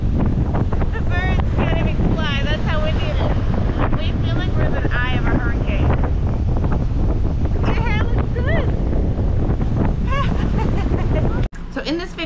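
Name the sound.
strong wind outside in South Texas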